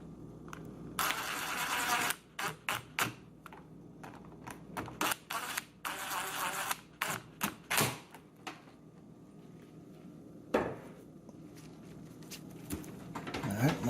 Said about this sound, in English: Should tighten these up with a screwdriver